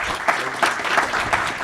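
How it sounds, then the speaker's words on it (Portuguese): Audience applause welcoming a speaker on stage at an Open Banking talk, a steady wash of many hands clapping with soft rhythmic peaks, filling the room without voices. "Recebam comigo com um aplauso o nosso Guga."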